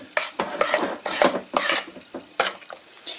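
Brownie batter with vanilla is stirred in a bowl with a spoon: a run of close, uneven scraping strokes with no talking.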